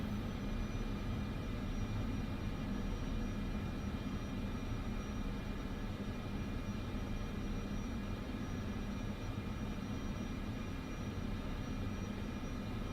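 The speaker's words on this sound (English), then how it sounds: "We're taxiing to the gates." Steady, low engine drone of an airliner taxiing to the gate in Microsoft Flight Simulator 2024, a continuous faint rumble and whine with no pauses or voices.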